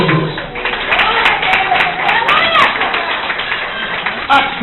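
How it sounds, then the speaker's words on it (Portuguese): Church congregation applauds during a sermon, a steady wash of clapping with voices and shouts rising through it, fairly close and continuous. "Palmas para o Senhor Jesus"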